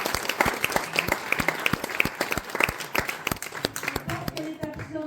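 Audience at an art exhibition opening in the Morvan clapping for a prize winner, with distinct individual claps in a scattered, moderately close round that thins toward the end amid a few voices.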